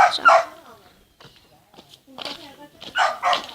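A dog barks in short bursts at close range, with the barks clustered at the start and again near the end and quieter rustling in between; a person's voice comes in alongside.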